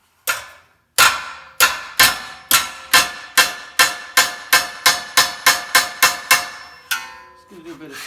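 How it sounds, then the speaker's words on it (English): Ball peen hammer striking a dolly to stretch sheet metal in a Chevy square body truck cab repair: a steady series of about seventeen sharp, ringing metallic blows, close and loud, speeding up slightly before a few softer taps at the end. "Just gonna do a bit of stretching with the ball peen first."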